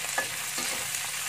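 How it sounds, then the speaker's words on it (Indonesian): A spoon stirs ingredients sizzling in a pot for Hainanese chicken rice, a short, close, even hiss of frying with soft scraping strokes. "Aduk rata."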